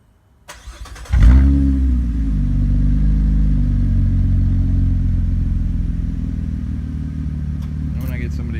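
A 2015 Chevrolet Impala LTZ with a custom exhaust turns over on a warm start and catches into a loud, steady, deep idle that carries on to the end; there is a faint sound near the close.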